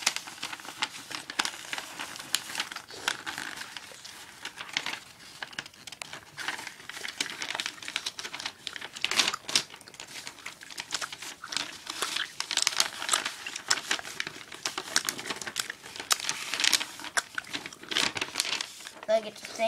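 Paper being handled and folded into a paper airplane, giving close, continuous soft crinkling and rustling in irregular bursts, with a person talking over it throughout.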